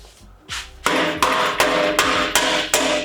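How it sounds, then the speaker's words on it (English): A hammer taps a downpipe exhaust clamp on a 2020 BMW X5 40i in a quick, regular series of sharp metallic taps, about seven blows, close and loud. "Just going to tap this with a hammer."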